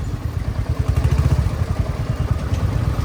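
A Royal Enfield motorcycle on the move, its engine giving a steady, loud low thump with a rapid pulsing beat, heard close with no voices.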